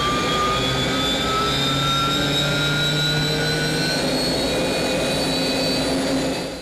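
A Boeing 767 auxiliary power unit spools up with a loud, steady turbine roar and rising whining tones, sustained without a break and close by.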